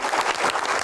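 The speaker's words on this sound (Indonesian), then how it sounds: "Tepuk tangan untuk Pak Bahlil" A brief burst of dense applause from a crowd, continuous clapping that fills the moment.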